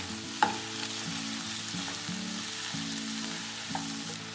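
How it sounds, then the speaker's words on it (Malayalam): Chopped onion and tomato frying in a pan for Malayalam-style tomato chutney, a steady close sizzle with a few soft knocks and scrapes as a spoon stirs, no talk. "ഇനി ഒരു മീഡിയം സൈസ് സവാള ചോപ്പ് ചെയ്തതും 2 മീഡിയം സൈസ് ടൊമാറ്റോ ചോപ്പ് ചെയ്തതും ഇതിലേക്ക് ചേർത്ത് ഇളക്കുക."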